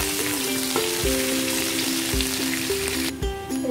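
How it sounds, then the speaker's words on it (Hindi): Roughly chopped onion fries in a pan with a continuous close sizzle, overlaid by a steady sung musical melody with regular thumping beats. "देखिए हमारी प्याज अच्छे से फ्राई हो गई है"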